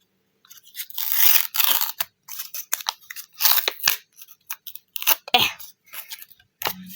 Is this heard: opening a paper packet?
yes